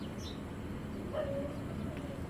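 Pet pigeons of fancy breeds such as Giribaz in a loft, giving a soft low coo in the middle of a quiet, faintly hissing room, with a brief distant chirp near the start.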